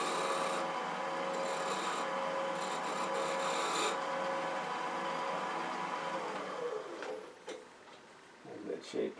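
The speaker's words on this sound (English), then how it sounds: "now I'm going to come up on the side, take a shear cut, clean that surface a little bit" A lathe tool takes a shear cut along the side of a spinning dogwood bowl, giving a continuous dry rasping hiss that holds steady, then thins out and stops near the end.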